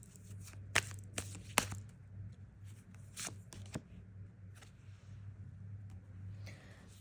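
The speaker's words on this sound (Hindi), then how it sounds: "ओके, लास्ट के कार्ड्स ले लेते हैं।" Tarot cards are shuffled and drawn by hand, giving soft riffling and sharp flicking snaps at irregular intervals over a low steady hum, close and quiet, without speech.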